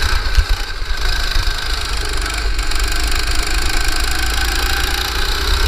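Go-kart engine running at a karting track, a loud close buzzing drone that stays steady throughout with slight fluctuations and no speech.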